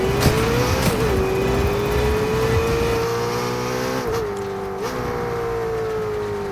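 A car engine in a battle-royale-style video game drones steadily with a gliding pitch, rising and dipping through gear-like shifts around the middle and near the end, loud and continuous with no talk.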